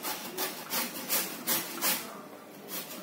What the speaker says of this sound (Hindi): इन्हें कद्दूकस पे घिस लेते हैं